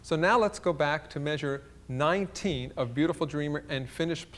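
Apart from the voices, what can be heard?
No distinct noise like a dog, phone or traffic.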